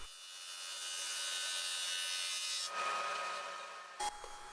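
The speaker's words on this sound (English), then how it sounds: "I can take it down to its final thickness at the drum sander" Drum sander thinning glued-up wood panels for a small toy chest, a steady broadband abrasive roar that holds evenly for several seconds, shifts in tone near the end, then cuts off with a brief knock.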